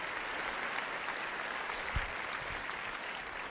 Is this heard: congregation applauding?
yes